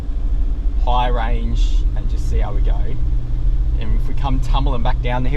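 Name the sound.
4x4 engine climbing a steep track in first gear, high range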